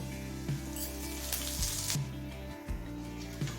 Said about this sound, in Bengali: এবার জিরে তেজপাতাটা একটু লাল করে ভেজে নেব